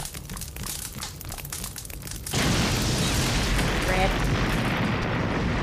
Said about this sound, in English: The alcohol and oil in here could swiftly embroil the whole place in flames.